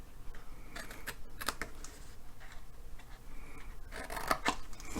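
Paper flaps of a small 2x2x5 box with an attached lid being cut with scissors: a few crisp snips close by, clustered early and again near the end, with faint handling rustle between.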